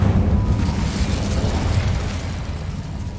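An Incendio fire spell is cast in the Hogwarts Legacy video game, producing a loud, roaring burst of flame and rumbling blast that carries steadily for a few seconds with no talking.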